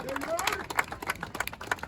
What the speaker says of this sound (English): Clap it up for the December 12th movement.